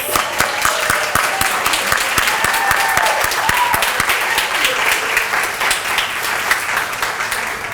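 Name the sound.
audience applause for new students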